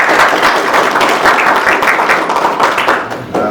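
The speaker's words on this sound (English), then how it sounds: "Let's give them a round of applause." Audience at a 2024 candidate forum applauds the candidates, steady dense clapping close and loud throughout, tapering slightly near the end.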